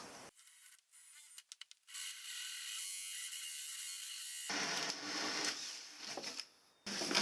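A hole saw cuts through the timber kitchen frame of a camper van, giving a high grinding whine in bursts with short stops and restarts, close and fairly quiet.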